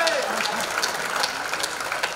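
Applause from an audience at a Hindi comedy poetry show, a soft steady patter of many hands clapping that lasts the whole moment, fairly distant and thin.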